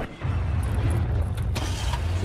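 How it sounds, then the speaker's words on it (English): A car engine starts in the Resident Evil 7 video game, kicking in after a brief pause and settling into a loud, steady low rumble close by. "Start the car."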